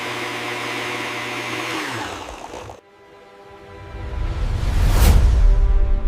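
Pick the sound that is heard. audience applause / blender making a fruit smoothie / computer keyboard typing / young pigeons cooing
blender making a fruit smoothie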